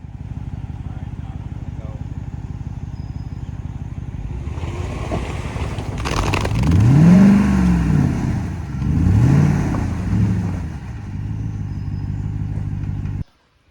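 A Jeep off-road vehicle's engine revs twice over a steady idle, climbing and falling in pitch before settling back and cutting off abruptly; the engine is loud and close, with faint background noise.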